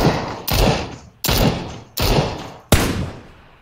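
Four heavy, evenly spaced gunshots ring out in PlayerUnknown's Battlegrounds, each a sharp, loud crack that booms and fades before the next one fires.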